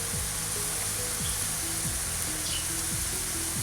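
Garlic paste and spices fry in a pan for a kidney bean curry. A loud, steady sizzle runs unbroken and close throughout, under a low, repeating tonal hum.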